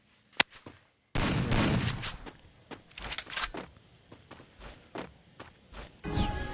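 Rapid bursts of AK rifle fire in the Free Fire video game, loud and close, with sharp crackling shots after a brief quiet start, then a dense volley followed by scattered single cracks and quieter gaps.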